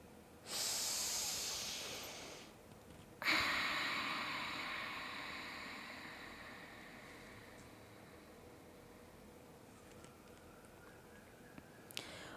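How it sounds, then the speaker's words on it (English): Deep, slow breaths during a yoga stretch for runners, heard close and alone: a long airy exhale, then a second strong breath that fades gradually into quiet. "Breathing."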